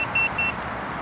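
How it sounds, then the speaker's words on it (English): A metal detecting pinpointer beeps out in the woods, giving two short, steady high-pitched tones in quick succession over a low background hiss. "I'll get the pinpointer out and check it. It's still beeping"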